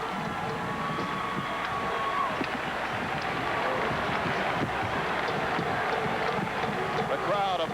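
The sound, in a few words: basketball arena crowd cheering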